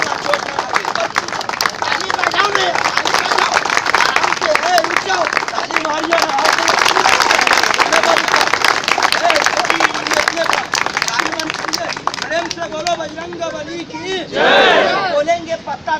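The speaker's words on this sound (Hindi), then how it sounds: "ताली बजाइए" A street magic show crowd claps and cheers in a dense, continuous burst, with a voice calling out over the noise and a brief swell of shouting near the end.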